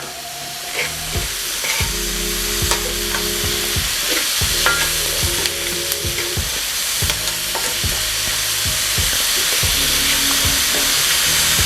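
Beef for stroganoff frying with salt in a pan gives a loud, steady, close sizzle, broken by repeated scraping strokes of stirring throughout, with no voices.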